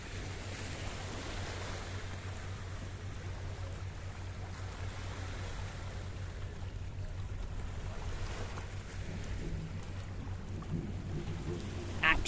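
Sea at Paphos with jet skis and boats out on the water: a steady broadband wash of surf and wind noise runs throughout, with low engine rumble underneath, fairly distant and continuous, no talk.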